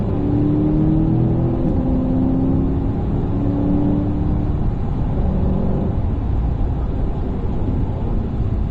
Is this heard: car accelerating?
yes